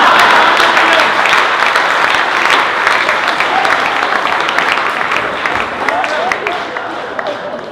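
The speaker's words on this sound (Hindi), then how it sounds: "ये जितने पुरुष ताली बजा रहे हैं" Dense, sustained applause from an audience of men at a poetry recital, loud and steady throughout with a slight fade toward the end.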